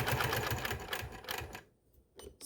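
A sewing machine stitches a quilted triangle in a quick, even run of mechanical thumps, stops, and then gives a brief faint restart after a near-silent pause.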